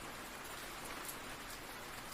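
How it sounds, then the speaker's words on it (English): Steady, strong rain drums on a cabin, a dense continuous patter of drops hissing evenly with no pauses. "You could still hear the rain, steady and strong."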